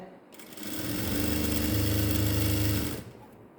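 A sewing machine runs a straight side seam on a pair of women's trousers. The motor whirs up, holds a fast, steady stitching drone for about two seconds, then stops. It is close and loud.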